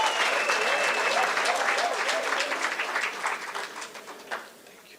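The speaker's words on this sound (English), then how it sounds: "Let's give them a round of applause as they come." An audience at a Gauteng graduation ceremony applauds graduates with steady, dense clapping that holds for several seconds and then tapers off, while a voice speaks over it.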